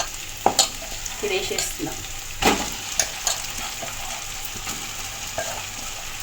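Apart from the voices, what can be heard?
stirring ingredients frying in a pan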